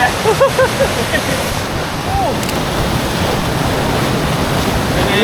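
Rushing water from Pre To Lo Su waterfall swollen in the rainy season, a steady broadband roar throughout, with a few brief voice fragments near the start.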